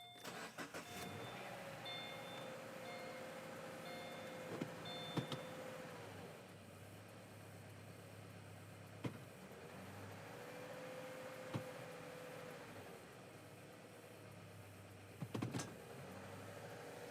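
The engine of a 2014 Subaru Forester, serviced with a CVT fluid change, starts and runs at a steady low idle, with a few faint clicks and thumps around it.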